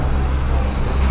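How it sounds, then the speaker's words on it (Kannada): A touring motorbike roars past on the road, close and loud, a steady low engine rumble with traffic noise filling the brief moment. "ಯಾವುದೋ ಟೂರಿಂಗ್ ಗಾಡಿ ಹೋದಂಗೆ ಅನಿಸ್ತಿಲ್ಲ?"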